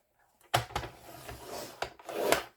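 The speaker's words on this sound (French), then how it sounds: "Je vais plier à 1 cm." Paper folded at a 1 cm margin for a handmade Christmas album, heard as a few close, dry rubbing and creasing strokes with soft scrapes, quiet, no talk.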